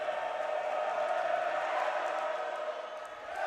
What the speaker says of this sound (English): You can hear this crowd resounding around Cousins Gymnasium